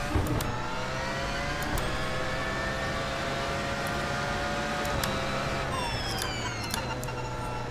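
A Porsche 919 LMP1 with a rear-mounted 2-liter twin-turbo V4 racing in iRacing, a continuous loud engine drone with rising and falling pitch as it revs and shifts, without any talking.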